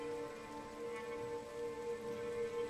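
Heavy rain falls in a steady, even wash of noise, moderately loud and continuous, with a faint sustained tonal hum underneath.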